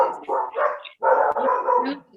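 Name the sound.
dog barking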